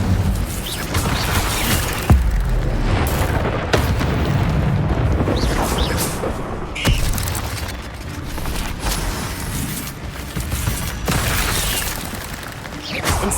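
Repeated fiery spell blasts with booming, crashing impacts from Incendio casts in Hogwarts Legacy combat, dense and loud throughout with sharp hits amid a continuous rumbling game soundscape.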